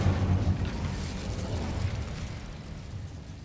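An Incendio fire spell cast in Hogwarts Legacy bursts with a deep whooshing boom, strong low rumble fading over about three seconds, heard alone with no voices.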